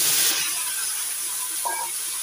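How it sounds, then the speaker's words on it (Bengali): Cut yam pieces sizzle and hiss in hot oil in a pan, the steady frying noise broken by a soft scrape of stirring near the end. "নাড়াচাড়া করে একটু ভেজে নিচ্ছি।"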